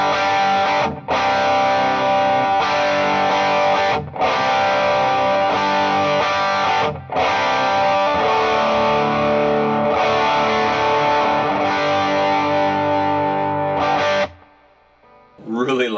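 Electric guitar played through the Strymon Sunset's side B two-stage drive, a smooth, saturated high-gain overdrive close to distortion, ringing out sustained chords with a few brief pauses before fading out near the end.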